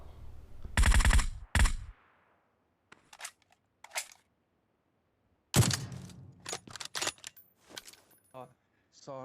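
Sniper rifle shots in an intense shooter video game crack sharply, several sharp reports scattered over a few seconds, with clicks and mechanical rattles between them and no speech.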